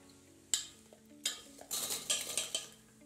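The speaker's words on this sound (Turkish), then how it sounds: "Şimdi tüm patateslerimi içerisine koyuyorum. Şöyle hepsini birden de dökebilirim." Potatoes poured into the metal frying drum of an air fryer, a clattering tumble of several sharp knocks and scrapes in quick irregular bursts, close and fairly quiet, with no talking.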